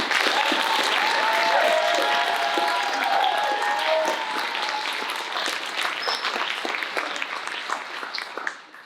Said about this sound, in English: I think that they deserve one more round of applause